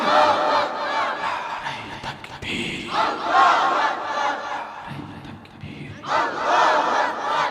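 A large crowd at an Islamic religious gathering in Bangladesh roars back in unison to a Naraye Takbir call, loud chanted shouts coming in repeated waves with brief gaps between them.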